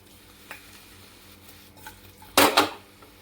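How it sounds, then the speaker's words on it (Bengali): Pan of fried potatoes and capsicum being stirred: low sizzle in the background, then two loud, close scraping clatters of the utensil against the pan near the end, with a couple of faint knocks earlier. "একবার আমি এইভাবে নাড়িয়ে দিচ্ছি,"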